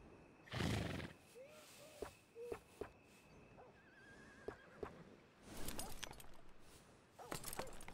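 A horse whinnies loudly once in the video game Red Dead Redemption 2, then snorts and stamps, with hoof clops and a few sharp knocks in a quiet outdoor setting.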